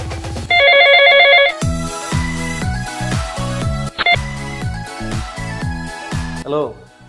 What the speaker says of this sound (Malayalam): മജീദ് ഭായിനെ വിളിക്കാം.